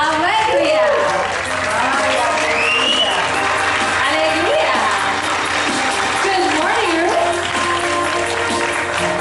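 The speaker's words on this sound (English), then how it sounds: "A round of applause, please, for Ruth Alegria" At a world street food festival event, an audience applauds a cooking school founder taking the stage: steady, loud clapping mixed with cheers and whoops, and voices rising through the crowd noise.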